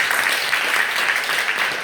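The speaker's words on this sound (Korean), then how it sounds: "우리 박수 한번 할까요?" During a Korean talk event, a short burst of audience clapping rings out continuously, fairly loud and close.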